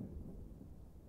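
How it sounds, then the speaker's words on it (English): Distant thunder rolls faintly in a low, continuous rumble during a storm, quiet and even throughout. "like thunder."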